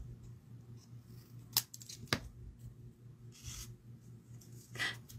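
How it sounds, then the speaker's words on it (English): Two sharp snips of scissors cutting the ends off paper petals for a poinsettia card, close and crisp, separated by about half a second, over a quiet hum with light paper rustles afterward. "We're just going to snip off the ends a little bit."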